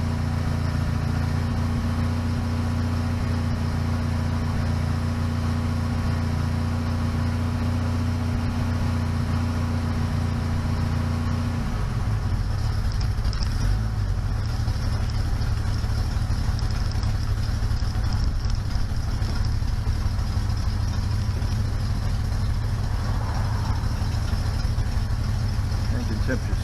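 A freshly restored car engine idles just after its first start, a steady low rumble that roughens and turns more clattery about halfway through, running continuously close to the microphone.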